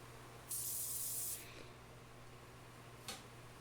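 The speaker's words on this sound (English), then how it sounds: "Give it a quick burst of accelerator now that it's kind of leveled out" A quick burst of CA glue accelerator sprayed onto a wood and resin hybrid pen blank, one close hissing spray under a second, then a brief faint puff a couple of seconds later, in a quiet room.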